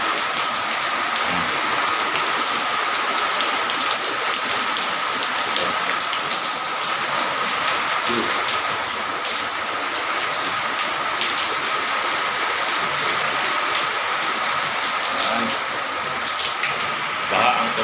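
Heavy typhoon rain pours steadily outdoors, a dense continuous hiss of rainfall on surfaces and running water, loud and unbroken throughout with faint voices now and then.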